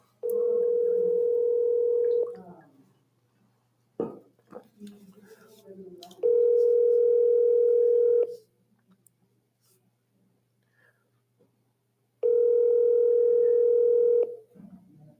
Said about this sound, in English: Ring him a third time.